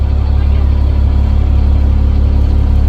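Shuttle bus engine idling at High Bridge, a loud, steady low-pitched drone with an even mechanical hum that holds constant throughout, nearby and with no talk.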